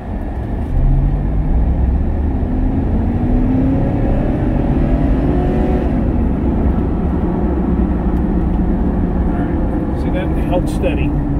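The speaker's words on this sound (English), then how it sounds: "All right, so now I'm going to accelerate up the street." A Chevy Tahoe with the 5.3 V8 accelerates up a street, its engine giving a steady, loud low rumble heard from inside the cabin, with no talk over it.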